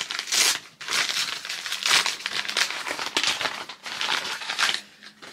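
Paper crinkling and crumpling as an advent calendar pouch is opened, a close, busy rustle with bursts of crushing and tearing that swell and fade in waves, heard alone without talk.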